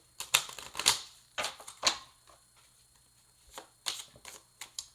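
Tarot cards being shuffled by hand in short riffling bursts, close and crisp, with quiet pauses between each bout of shuffling.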